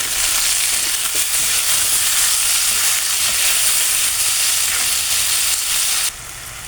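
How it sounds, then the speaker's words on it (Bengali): Chopped tomato goes into onion, ginger and garlic frying in a pan, with a loud, steady sizzle and hiss up close for several seconds. The sizzle cuts off abruptly near the end. "দিয়ে আমি একটু টমেটো কুচি দিয়ে দিলাম"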